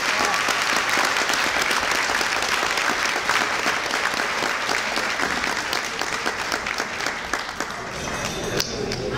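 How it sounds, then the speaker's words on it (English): Audience applause for graduates at a 2015 Ohio Somali graduation and scholarship program, a full, sustained crowd clapping that carries loudly for several seconds before thinning slightly at the end. "Let's give every graduate a big round of applause."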